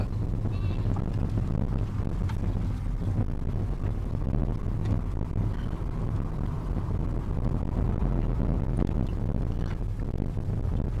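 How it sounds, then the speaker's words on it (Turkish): Goats and young goat kids bleat in a highland pasture at Meydan Yaylası near Aladağ, Adana, with a few calls rising over a constant wind-buffeted rumble on the microphone. "Kuzular, keçi kuzuları."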